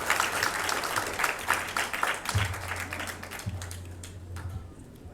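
Audience at a Philippine mining industry forum claps a round of applause as a speaker is welcomed, dense and steady before thinning and fading, with a low hum underneath.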